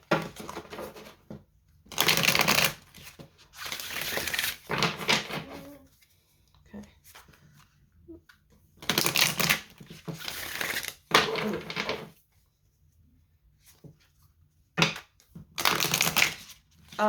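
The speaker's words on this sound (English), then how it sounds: "it's nice to be able to riffle shuffle again without my nails in the way" Repeated bursts of tarot cards being riffle shuffled, each a crisp fluttering rush lasting a second or two, separated by pauses and soft handling sounds.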